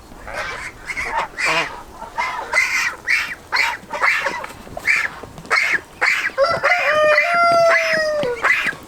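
Poultry in a farm pen call noisily and close, with a busy stream of honking, clucking squawks and one drawn-out crowing cry near the end, without speech.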